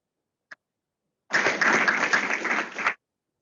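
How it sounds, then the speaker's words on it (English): Applause breaks out from an audience at the CPPI Secretary of Defense Freedom Award celebration: a single clap, a pause, then a dense burst of clapping lasting about a second and a half before it stops abruptly. "Let me give them a round of applause."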